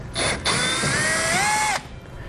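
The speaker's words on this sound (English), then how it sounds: "we're going to use an 8mm to remove this bolt" A power tool spins out an 8mm bolt on the bumper of a 2012 BMW X6, one close, loud, high whine of about 1.3 seconds that rises in pitch, preceded by a short burst.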